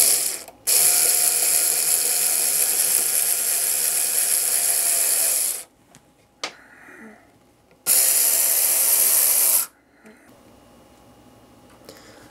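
A screw with a washer is driven into model railway track on a big helix curve, giving two loud, steady mechanical whirring bursts of about five and two seconds, with brief quiet pauses and small clicks between.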